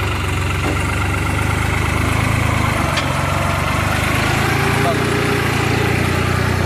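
A tractor engine runs steadily at a low, throbbing drone, loud and close, with no pauses over the whole stretch.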